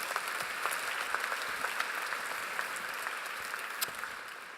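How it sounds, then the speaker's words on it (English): Steady, moderately distant applause from a conference plenary audience at an agriculture tech event follows a speaker, a continuous even wash of many hands clapping that tapers slightly at the end. "Big round of applause."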